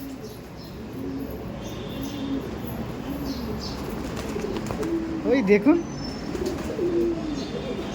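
A female Ablook pigeon in a racing loft coos in low repeated phrases nearby, with other birds chirping and someone talking over it.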